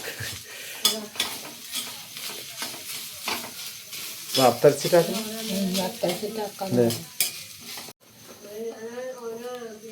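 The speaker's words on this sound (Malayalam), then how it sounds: "തേങ്ങ വറുക്കും" Grated coconut sizzling and being stirred in a hot pan, with scraping utensil sounds and a voice speaking briefly near the end.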